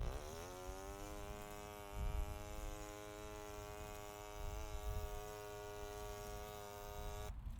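A voice imitates an electric lawnmower with a steady, droning buzz that holds at an even pitch for several seconds, with slight swells in loudness, heard alone and close.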